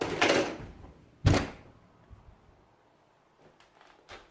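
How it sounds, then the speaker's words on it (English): A door shuts with a solid thunk on arrival at a home with a Land Rover Defender 130 and rooftop tent, following an earlier clatter, then faint rustling and small knocks in a quiet room. "Kate, get the door."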